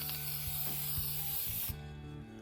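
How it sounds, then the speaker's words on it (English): Clear coat sprayed from an aerosol can onto a 3D-printed crankbait fishing lure: a steady close hiss lasting under two seconds before cutting off, with faint tapping underneath. "spray some clear coat on there"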